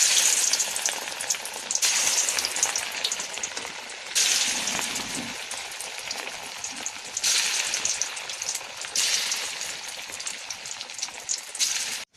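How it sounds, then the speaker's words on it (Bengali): Prawn fritters fry in hot oil with a loud, steady crackling sizzle that swells and eases in waves, close up and with no talking. "বড়া ভাজার জন্য দিয়ে দিয়েছি চিংড়িগুলো"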